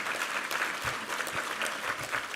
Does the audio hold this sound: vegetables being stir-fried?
no